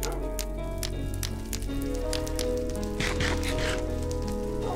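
Rain in the Minecraft video game, a steady, dense hiss of drops spattering on surfaces that continues without a break beneath a continuous tone-like background.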